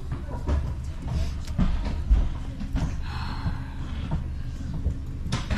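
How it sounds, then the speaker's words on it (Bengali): A direct train travelling towards Zurich rumbles and rattles from inside the carriage, with low uneven thumps, clicks and a brief airy hiss, all at moderate loudness. "উঠে গেলাম ট্রেনে"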